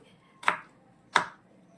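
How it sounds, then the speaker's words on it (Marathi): Two sharp, close knife strokes on a board as ridge gourd is chopped very finely, evenly spaced in a quiet kitchen. "अतिशय बारीक अशा कंडिशनमध्ये मी चिरत आहे"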